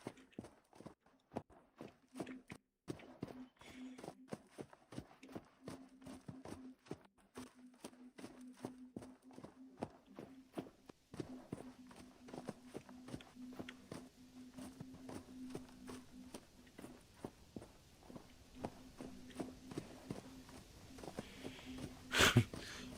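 Horse hooves trot steadily through a Vintage Story survival game world, a fairly quiet, even clip-clop rhythm that runs the whole way with a low steady hum underneath and a brief louder burst near the end.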